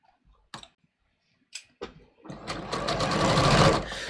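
A domestic sewing machine stitches down fabric pleats, starting with a few separate clicks and taps, then running into a steady, close, whirring mechanical chatter that builds slightly.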